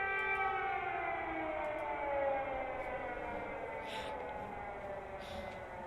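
Air raid sirens wailing over Kyiv, a steady, loud rising-and-falling tone that carries through the whole stretch with no voices over it.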